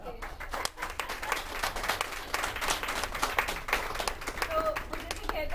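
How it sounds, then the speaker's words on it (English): Audience at a happiness congress event applauds, crisp distinct claps close by forming a lively, uneven patter over continuous crowd clapping, with some voices faintly mixed in. "a big round of applause for Lokesh."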